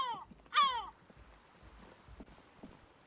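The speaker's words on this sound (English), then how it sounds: "I feel like I could only hear that crow because I expanded the camera like it was part of the scene" A crow in Disco Elysium gives two loud, harsh caws in quick succession at the start, followed by quiet ambience with faint soft footsteps.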